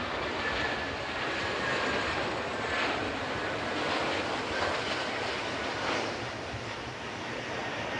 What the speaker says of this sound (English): Coming through in dirty configuration, i.e. gear down, flaps out.